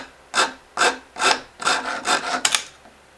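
A wooden guitar neck being rounded off with a rasp, giving seven rhythmic scraping strokes of even length, close and alone.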